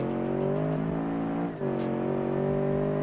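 Stock car engine in the racing game Automation held under throttle, a loud steady rear-wheel-drive roar with strong harmonic tone that dips briefly mid-clip and then climbs again, running continuously with no talk.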